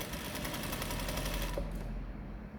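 A sewing machine stitches steadily along the curved side seam of a dress, a close, continuous rapid mechanical whirr that holds for the whole span and eases off near the end.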